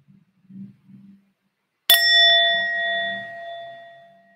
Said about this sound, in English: So I slowly ring the bell.